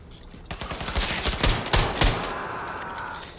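Rapid bursts of automatic gunfire from the player's weapon in the shooter Wolfenstein II: The New Colossus, sharp repeated shots building through the middle and tailing into a ringing wash of combat noise.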